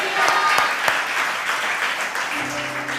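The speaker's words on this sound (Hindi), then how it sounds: "ताली बजा के कहेंगे हालेलुया" Church congregation clapping together at a Hindi-language worship service, a dense burst of applause filling the first couple of seconds before fading under a sustained tone.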